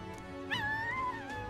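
In the video game Metaphor: ReFantazio, a puppy lets out one drawn-out, high whimper that rises and then slowly wavers, heard over a soft background ambience.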